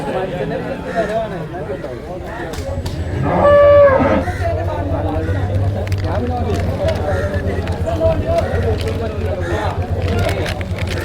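Cattle and calves low and moo at a busy cattle market in Manjeri, Kerala, one clear drawn-out call standing out, with people talking and a low engine hum throughout.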